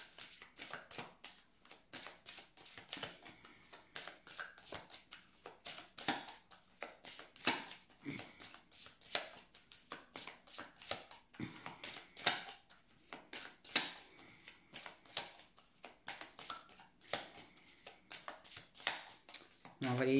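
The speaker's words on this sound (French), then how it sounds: "On va couper le jeu." A deck of playing cards being cut and shuffled by hand, with a dense, continuous run of crisp riffling snaps and slaps, close and fairly loud throughout.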